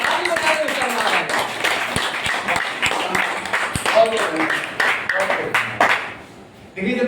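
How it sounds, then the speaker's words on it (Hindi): An audience clapping during a talk, with sharp, uneven claps over continuous voices and chatter that fade out near the end. "अभी भी कुछ करना है, ताली बजाने करना है।"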